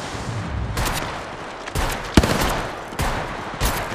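Rapid gunfire from Apex Legends gameplay, several bursts of shots cracking in quick succession with short pauses between volleys, loud and close.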